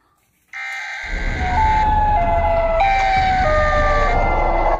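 Siren Head siren from a horror video game, a loud wailing electronic siren with stepped, shifting tones that starts abruptly after a short silence and holds steady, close and alone.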